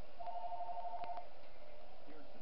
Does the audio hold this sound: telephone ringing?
yes